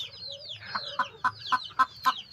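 Backyard hen, a Peruvidai breed bird that has just laid an egg, clucking close by in a short run of sharp, evenly spaced clucks that grow louder toward the end.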